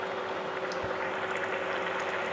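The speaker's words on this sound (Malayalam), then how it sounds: "അത് ഒഴിച്ച ശേഷം ഒന്നും കൂടി തിളക്കട്ടെ." A Thrissur-style prawn curry with coconut milk simmers in a pan, giving a steady, close bubbling and hiss that continues unbroken with no voices.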